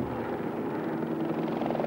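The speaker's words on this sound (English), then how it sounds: "The chopper chasing them all the way" A helicopter tracks rally cars along a forest stage at the 1991 Rally Australia, its steady, loud, pulsing rotor drone continuous throughout with no voices.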